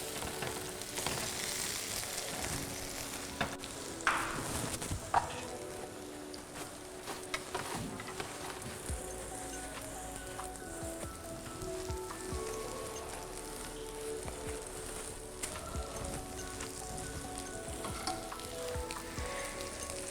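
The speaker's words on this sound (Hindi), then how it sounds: "जब तक हमारे बैंगन फ्राई हो रहे हैं हम इसको बार बार पलटेंगे ताकि जले नहीं दोनों तरफ से" Eggplant slices fry in oil with a dense, continuous crackling sizzle, close and fairly quiet, and occasional clinks and taps as the slices are turned.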